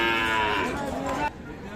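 A single cow moos loud and close at a cattle market in Aftabganj, Dinajpur, one sustained bellowing call that stops abruptly before the market's ambient hum.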